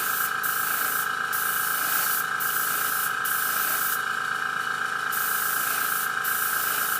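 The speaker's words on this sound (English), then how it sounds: "This is a dual action airbrush" A dual action airbrush lays down light mist coats in a steady, close, continuous hiss, broken by short bursts of brighter spray as the trigger is worked, with no voices.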